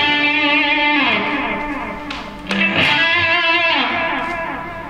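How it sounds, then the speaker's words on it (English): Electric guitar through a Blackstar ID series amp set to analog echo, sustained chords and picked notes trailing into lo-fi, slightly muffled repeats, loud and steady with no talk. "Now we have our analog echo."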